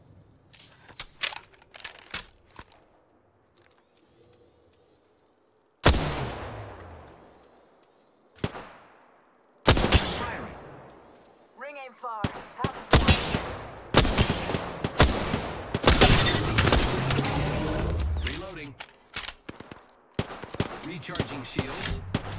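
Video game shootout with bursts of automatic gunfire and single sharp shots, some close and loud, others fainter, scattered in irregular clusters with brief lulls, while game voice lines and a player speak intermittently.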